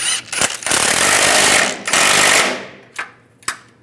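A power tool, likely an impact wrench, rattles loudly in bursts while tightening differential bracket bolts on a 2007-2013 Chevrolet Silverado, followed by a couple of short sharp taps.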